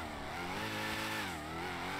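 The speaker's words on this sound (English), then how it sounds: "Cold start." Cold start of a Dodge Charger's engine in GTA 5, a steady, loud engine drone with rising and falling revs that hold close and continuous for two seconds, with no talking.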